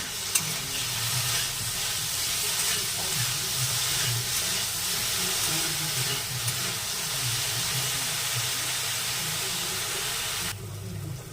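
Brinjal frying with salt and turmeric while being stirred: a steady close sizzle and hiss with rhythmic spoon scrapes against the pan, moderately loud, no voices.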